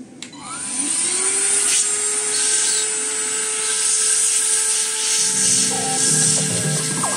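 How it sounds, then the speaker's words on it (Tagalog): A vacuum cleaner whirs steadily at close range, its motor pitch shifting slightly partway through, with no voices. "gagamitin na natin yung vacuum"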